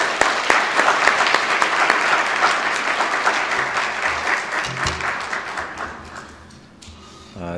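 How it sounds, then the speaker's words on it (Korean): A church congregation gives loud, sustained applause welcoming a guest pastor to the pulpit at a Sunday service, dense clapping that fades out near the end. "이 시간에 우리 강사님 나오실 때 크게 환영으로 뜨겁게 박수합시다"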